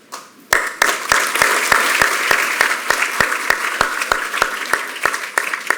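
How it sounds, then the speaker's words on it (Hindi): An audience at a Yoga Day celebration applauds actor Jackie Shroff, steady rhythmic unison clapping in a regular beat, loud and close, kicking in after a brief quiet start. "जैकी श्रॉफ का नाम लेते ही आपने तालियां बजाई"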